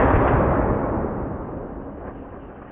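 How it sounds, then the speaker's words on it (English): An X Products can cannon fires a pop can with a single loud, close, booming blast whose rumble fades steadily over a couple of seconds. "it is a can cannon, so"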